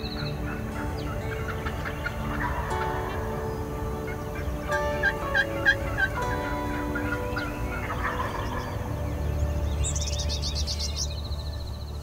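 Eastern wild turkeys gobble repeatedly outdoors, rattling calls rising and falling at moderate distance, with other bird chirps and a low rumble underneath.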